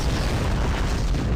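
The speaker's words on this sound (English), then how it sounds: "I just saw an explosion happen over there and I thought they blew up." A starship explodes in the space battle game Star Trek Online, a loud continuous deep rumbling boom filling the whole moment with no talk.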